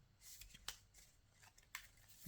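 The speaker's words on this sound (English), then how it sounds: "because you want to shuffle your deck." A deck of Cardfight!! Vanguard trading cards is shuffled close up, giving several soft riffling bursts with sharper snaps between them, quiet and with no talking.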